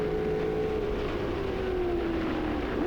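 A McLaren M6B big-block race car engine at Laguna Seca, climbing the hill toward the Corkscrew, holds a steady loud drone with a slowly falling pitch as the car pulls through the gear, heard continuously without talk.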